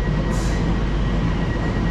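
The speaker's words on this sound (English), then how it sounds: "There's the other train going to Paddington." A London Elizabeth line train bound for Paddington rumbles steadily at a station, a continuous close rolling roar with a faint high whine and a brief hiss, and no talk.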